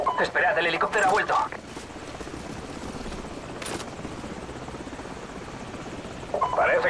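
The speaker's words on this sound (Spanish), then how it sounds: "el helicóptero ha vuelto" Helicopter rotor chop drones steadily throughout in the Call of Duty Modern Warfare video game, with bursts of radio-style voices talking at the start and end.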